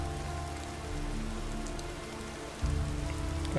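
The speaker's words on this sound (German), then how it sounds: "Jetzt regnet es auch noch." Rain falls steadily in the fantasy role-playing game Gothic 2, a dense, continuous hiss of downpour that swells slightly louder partway through, with a low rumbling ambience beneath and no voices.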